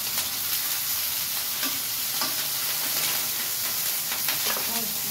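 Onion and garlic sautéing in a hot pan for adobong atay balunbalunan with potatoes, a continuous hissing sizzle broken by repeated scrapes of stirring, close and fairly loud.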